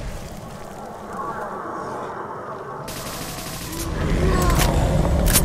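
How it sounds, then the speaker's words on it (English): Gunfire and an explosion from the video game STALKER Clear Sky, with a dense wash of shots and a sudden loud burst partway through, continuing heavily to the end. "One fucking grenade in the fucking face and some fucking shots"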